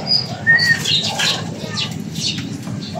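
Racing pigeons at a North Derby race, with soft cooing, chirps and bursts of wing flapping close by, while people talk over and around the birds.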